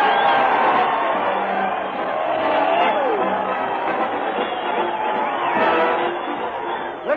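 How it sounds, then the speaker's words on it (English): A studio crowd cheers and whoops for comedian Fred Allen on an old radio broadcast, a continuous roar of voices and chatter filling the whole stretch. "Listen to that crowd cheer Fred Allen as he heads his weekly parade to the old Town Hall"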